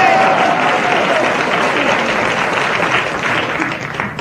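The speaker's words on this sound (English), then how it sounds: "Poses for audience applause" Studio audience applauding during a radio comedy show, with a loud steady burst of many hands that stays dense and then tapers slightly at the end.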